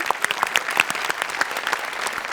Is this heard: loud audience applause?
yes